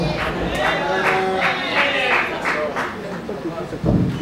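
An audience at a Congolese gospel concert-conference cheers and claps in rhythmic bursts, a dense crowd roar with regular clap pulses and music tones underneath, fairly loud throughout.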